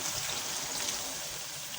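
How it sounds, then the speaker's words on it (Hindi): Water poured into a pan of fried aloo gobi, a soft continuous trickling stream, fairly quiet and steady. "अब हम इसमें थोड़ा सा पानी शामिल करके इसको ढक के पकने के लिए रख देंगे।"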